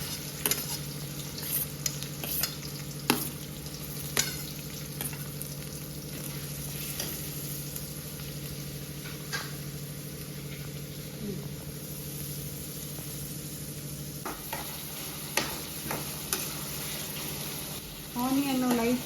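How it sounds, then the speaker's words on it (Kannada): Onions sizzle and fry steadily in hot oil while being stirred, a continuous close crackle with occasional louder pops, and a voice speaks briefly near the end. "ಅದಕ್ಕೆ ಆನಿಯನ್ ಹಾಕ್ತಾ ಇದ್ದೀನಿ"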